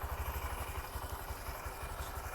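A motorcycle with a faulty, broken-sounding aftermarket exhaust idles with a fast, steady low throb and some clatter, fairly faint and with no talking.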